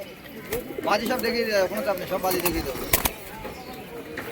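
Pigeons at a busy village market coo in soft, rolling calls close by, mixed with voices talking throughout and a few sharp knocks.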